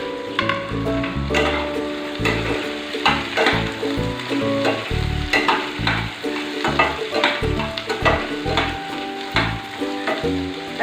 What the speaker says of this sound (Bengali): আলুগুলো সামান্য নাড়াচাড়া করার পরেই আমি দিয়ে দেবো পেঁয়াজ